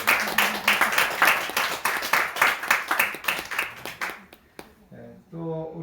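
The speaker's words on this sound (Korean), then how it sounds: "여러분 다 박수로 한번 환영해" A church congregation at a New Year thanksgiving service claps in welcome, with loud, steady rhythmic hand claps for about four seconds that then trail off, and a voice begins speaking near the end.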